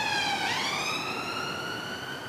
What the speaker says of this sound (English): Sorry, allow that siren.